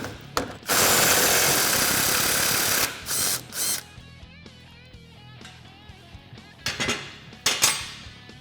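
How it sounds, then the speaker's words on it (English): A power tool removes the sway bar link bolt on a Polaris RZR XP 1000, a loud, close, steady whir for about two seconds, followed by shorter bursts of whirring and clanks of metal. "Then we'll remove our sway bar link bolt, just to make it easier to get that shock off."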